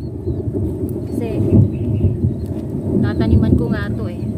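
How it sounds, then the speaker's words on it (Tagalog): Deep thunder rumbles continuously during a storm over a vegetable garden of okra and eggplant, a loud low roll with swelling peaks, while a person talks over it. "So naririnig niyo yung kulog."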